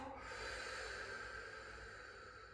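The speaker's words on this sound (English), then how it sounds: "and exhale." One long, steady exhale close to the microphone during a pregnancy yoga breathing exercise, a breathy hiss that fades gently toward the end.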